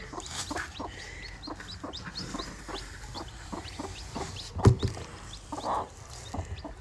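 A brooding hen clucks in short, repeated bursts close by, with a louder squawk in the middle and faint background rustling.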